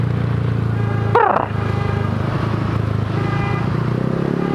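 A Honda Vario 150 motorcycle fitted with an F2Racing CL Long exhaust drones steadily and close throughout, with a brief rising tonal chirp near the start and no speech.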